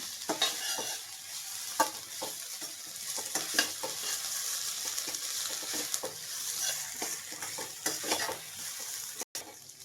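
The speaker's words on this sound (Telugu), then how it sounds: "మెంతులు కొంచెం ఎక్కువసేపు వేయించుకోవాలండి లేకపోతే చేరు వస్తుంది" Fenugreek seeds frying in a pan for a fenugreek leaf and tomato curry, giving a constant bright sizzle with frequent close stirring scrapes and occasional utensil clinks, no talk.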